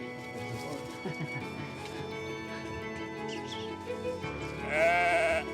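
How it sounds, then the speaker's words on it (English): Newborn lambs born overnight bleat in a close, steady chorus of overlapping calls, with a louder high bleat near the end, outdoors on a Moroccan farm alongside other livestock. "These lambs were born in the night."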